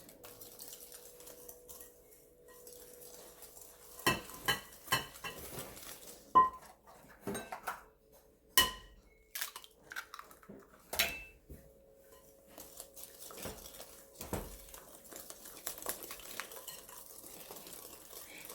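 Pecan bar batter being stirred in a bowl, with a spoon scraping and clinking against the sides in irregular close strokes and scattered sharper knocks over a quiet background.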